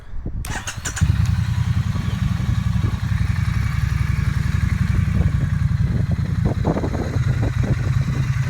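A Triumph Bonneville Street Twin engine with stock exhaust cranks and catches, then settles into a loud, steady rumbling idle close by.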